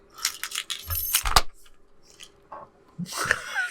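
Keys tossed onto a floor land with a brief metallic jangle and clatter, close by, amid a few other short knocks and rustles in a quiet room.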